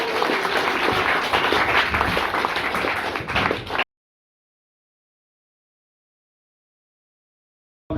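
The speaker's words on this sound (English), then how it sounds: "Big round of applause, come on." Workshop audience at a Toastmasters speaking event breaking into applause, a loud dense burst of many people clapping for nearly four seconds, then abrupt silence.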